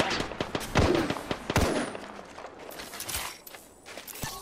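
Video game gunfire crackling in a rapid scatter of sharp shots and impacts, some close and loud, others fainter, over a short burst with no talk.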